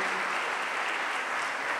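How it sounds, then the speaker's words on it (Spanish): Audience applause for a speaker at a provincial conference of economic sciences professionals, steady dense clapping filling the hall without pause. "Le brindamos un aplauso al doctor Emilio Moro"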